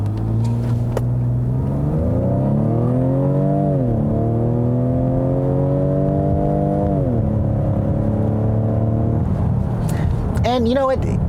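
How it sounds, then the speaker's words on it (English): A 2019 Ford Edge ST with a twin-turbo engine launches from a stop in sport mode, a loud cabin drone rising through the gears with two shift dips, under continuous talk. "So I want to try to do an acceleration run from a stop here."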